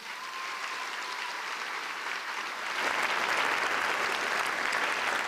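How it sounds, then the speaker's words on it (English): An audience at a school district teacher-of-the-year honors ceremony claps steadily, a broad even wash of applause that swells partway through and continues without talk. "Let's give them a round of applause."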